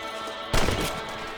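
A single sharp rifle shot fired at rabbits in the Western video game Red Dead Redemption, a loud close crack with a short rumbling tail over quiet background ambience.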